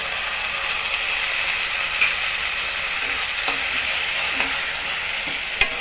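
Tomato puree hitting a pan of frying rajma masala and being stirred, a continuous bright sizzle with occasional clicks and scrapes of the spoon, steady and close.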